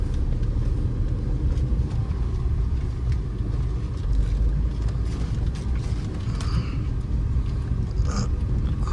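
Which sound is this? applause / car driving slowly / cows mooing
car driving slowly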